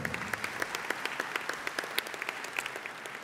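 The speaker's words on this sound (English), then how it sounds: "Let's give him a big round of applause." Audience applause at a conference forum, a steady patter of many hands clapping through the whole stretch, fairly distant and even, with no talk over it.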